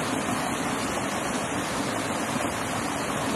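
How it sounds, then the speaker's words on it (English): A waterfall in Sma Glen, Scotland, pours in a steady, dense roar of rushing water that stays loud and unbroken throughout, with no voices over it. "I've got lots of room here at this waterfall"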